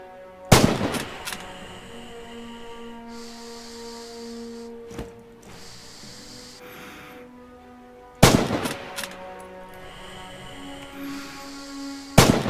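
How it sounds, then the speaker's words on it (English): Kar 98 bolt-action sniper rifle with scope fired in the video game Rising Storm: three sharp, loud shots spaced several seconds apart, each with a short ringing tail, over a low ambient game background. "This is the standard Kar 98 with a sniper scope fitted."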